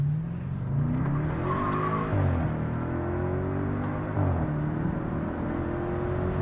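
A BMW 650i Alpina B6 with full exhaust and OEM downpipes revs as the throttle is feathered, giving loud, rising and falling engine tones with faint sharp pops and crackles scattered over the exhaust note.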